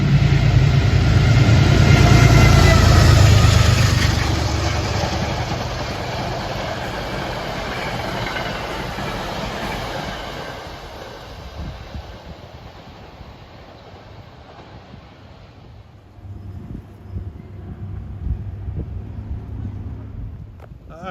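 A Metro-North train passes with a New Haven unit 230 at Riverdale station, a loud close rumble and rail rattle that peaks early, then slowly fades as the train moves away, with a lighter rumble returning near the end.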